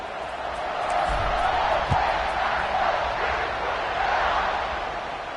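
A large American football stadium crowd roars steadily as the defense takes the field, a dense wash of cheering and shouting that swells slightly, with a few thuds underneath.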